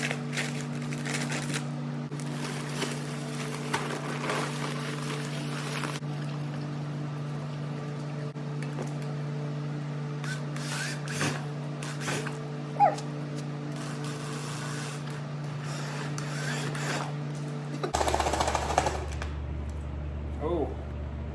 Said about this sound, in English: Oh, I think I just smoked my drill.